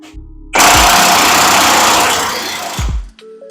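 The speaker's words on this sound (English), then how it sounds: "Now I can go ahead and rip this pivot shaft out." Harley-Davidson Softail swingarm pivot shaft being worked out during a teardown, a loud continuous harsh grinding rasp lasting a couple of seconds, ending in a few heavy metallic thumps, close up with no talking.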